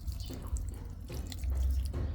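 Water poured into a pork marinade for crispy fried pork, a short continuous trickle and splash close by with no talking.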